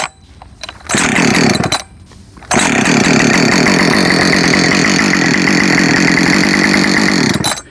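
A warm Husqvarna 562XP mkII chainsaw is hot-started, with two short pull bursts and then the engine catching and running loud and close for about five seconds before cutting off.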